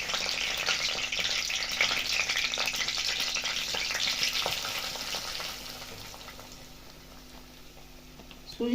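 Cardamom pods and raisins sizzle in hot fat in a pan for Bengali semolina halwa, a steady crackling fry with scraping stirring strokes, fading slightly toward the end.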